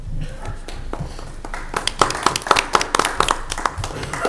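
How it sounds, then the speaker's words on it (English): Scattered hand claps from a few people at a board meeting, sparse at first and then a quicker run of distinct, fairly close claps, with low room noise underneath. "Everybody gets a clap"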